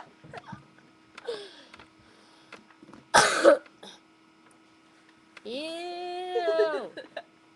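A child in a home kitchen gives one sharp, loud cough in the middle, framed by soft child vocal sounds and a sustained hummed or sung tone afterward.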